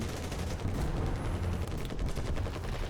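Rapid machine cannon fire from a tank battle in the War Thunder video game rattles in a dense, continuous stream of loud shots.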